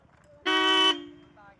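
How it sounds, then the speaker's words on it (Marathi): A car horn gives one short, loud honk of about half a second on a road trip, with a faint tail of traffic noise and light background sound after it. "हॉर्न वाज बरा"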